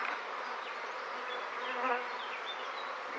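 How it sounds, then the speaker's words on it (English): Dense, steady buzzing of many honey bees close by around a top bar hive, a constant droning hum with individual insects passing near. "the older bees have obviously decided that it's time to put up a defence"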